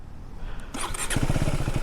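A KTM 390 Duke motorcycle engine revs up from idle, a sudden rise into a buzzing, throbbing rasp with rapid low pulsing; fairly close and moderately loud.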